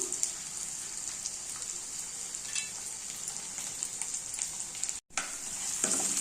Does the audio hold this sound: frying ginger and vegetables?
yes